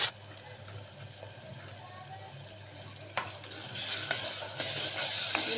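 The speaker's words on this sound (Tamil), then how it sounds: "இப்போது இஞ்சி பூண்டு பேஸ்ட் போடுறேன்." Ginger garlic paste sizzles and sautés in a pan for a mutton curry, a steady fry with scattered stirring scrapes that grow louder toward the end.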